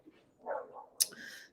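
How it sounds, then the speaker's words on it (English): A pet dog, a female, gives a couple of faint, short barks and a yelp at a distance in a quiet room, with no talking. "Sorry if you can hear my dog barking."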